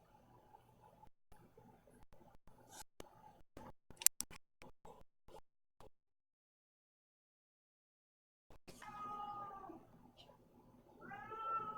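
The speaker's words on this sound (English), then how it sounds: "can you hear the cat yelling?" A cat yelling and meowing, heard faintly as a scatter of short sharp bursts in the first half, then a pause of near silence before louder, more continuous sounds return toward the end.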